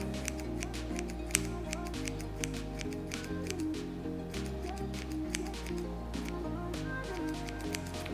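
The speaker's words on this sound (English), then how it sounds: "some fresh basil. Just cut a few pieces" Fresh basil leaves snipped with scissors over a flatbread pizza: a quick series of close, crisp snips and rustles repeating through the clip over a steady low background hum.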